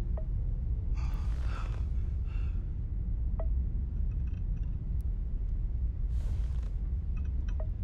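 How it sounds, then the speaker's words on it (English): A character in the Starfield video game breathes in a labored way, with heavy breathy gasps rising in two clear bouts over a steady low rumbling background and no talk. "Difficulty breathing."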